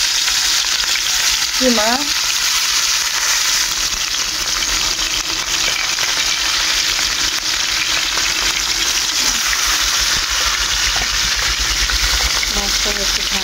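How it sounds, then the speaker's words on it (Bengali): Fish frying in a pan of hot oil, a steady close sizzle that runs the whole time, with a few brief spoken words and small clinks over it. "সুন্দর মতো ভাজতে হবে মাছটা।"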